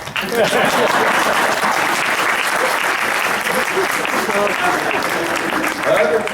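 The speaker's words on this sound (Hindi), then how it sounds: "ताली बजा सकता।" A crowd at a Hindi kavi sammelan poetry gathering breaks into loud, sustained applause that fills the room evenly for several seconds, with some voices mixed in.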